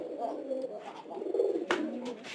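A domestic pigeon in an upstairs coop coos in soft, low, rolling phrases, close by and fairly quiet, with a faint rustle partway through.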